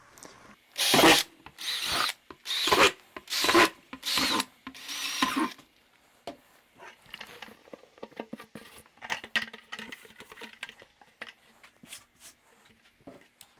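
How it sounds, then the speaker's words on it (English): Five short, loud bursts of drilling holes in a plastic bucket in an even rhythm, followed by quieter scraping and handling noises. "Just like that, we have our holes drilled out."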